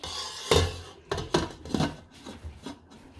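A lid is set onto a cooking pot of spiced stew, a sharp metallic clank followed by several lighter clinks and scrapes as it settles, close and without talk.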